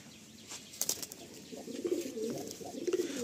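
Madrasi pigeons burst into flight from a loft, a brief flurry of flapping wings followed by rising fluttering and soft cooing, moderately close.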